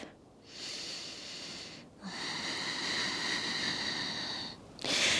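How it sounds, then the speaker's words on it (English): Slow, deep breathing during a calming yoga session, each long airy inhale and exhale heard close and steady, separated by brief pauses with no talking over it. "Take a deep breath."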